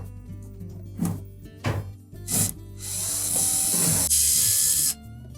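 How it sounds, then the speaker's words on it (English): Screws being backed out of a Samsung dryer's blower housing with a power driver: a few short clicks and rattles, then a steady, close whirring drive of about two seconds, with no voices over it. "Then we'll remove the 2 screws that secure it to the blower housing."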